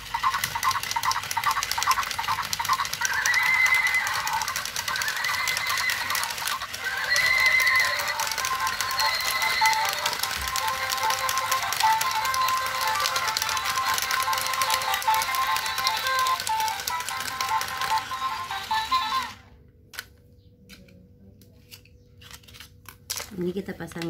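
A walking toy pony or unicorn runs its battery mechanism, a steady mechanical whirring and clicking that carries on for about twenty seconds before cutting out abruptly, close and fairly loud.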